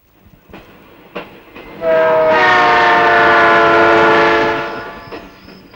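A train passes close by at night, its horn blaring loudly for a few seconds over the rumble and clatter of the wagons, with faint clanks before and after.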